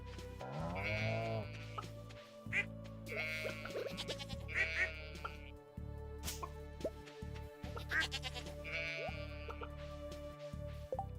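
Sheep on a farm in a video game bleat several times in clear, close calls against a steady low backdrop, with short pauses between the bleats.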